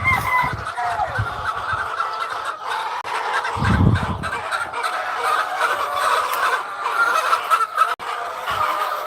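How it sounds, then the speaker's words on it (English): Chickens and other fowl in a chicken barn keep up a busy chorus of clucks and squawks nearby, with a few louder low gobbling bursts rising out of the continuous din. "I'm not sure what all these birds are making so much noise."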